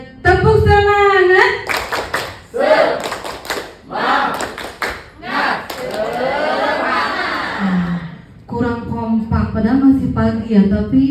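A group claps a rhythmic spirit clap during a teacher training session, bursts of quick patterned claps alternating with chanting voices, loud and close in a room.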